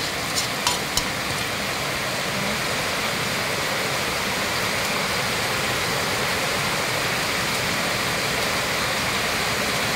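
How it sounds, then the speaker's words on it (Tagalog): Steady liquid pouring into a cooking pot of mung bean stew, a continuous splashing rush that holds evenly for the whole stretch, loud and close, with a couple of faint clinks early on. "para ibuhos natin mga kapangit sa kasirola"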